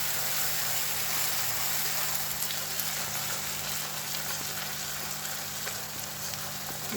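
Garlic, onion, tomato and green chilies frying in oil for a palak paneer masala: a continuous, even sizzle with faint stirring ticks, close and alone, with no voices.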